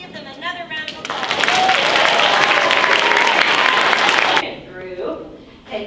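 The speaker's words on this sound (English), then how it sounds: "Give them another round of applause" Applause at a school holiday show rises after a speaker's voice, a full, loud burst of crowd clapping that holds for about three seconds, then drops away as talking resumes.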